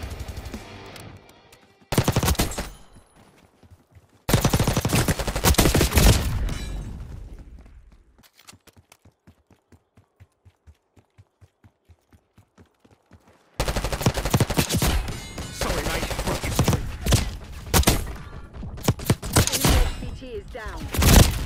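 Call of Duty Black Ops 6 multiplayer gunfire: bursts of automatic fire and a steady run of single shots, loud and close, broken by quieter stretches, with voices heard in between.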